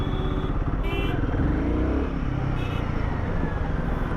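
A Royal Enfield Guerrilla 450 motorcycle engine pulls under throttle in first gear, a loud continuous low rumble with rising and falling pitch that stays up close throughout.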